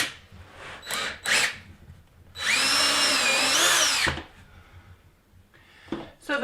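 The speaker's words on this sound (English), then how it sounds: "drill a little spot" A power drill whirs steadily for about two seconds as it bores into wood, between quieter handling knocks and clatter before and after.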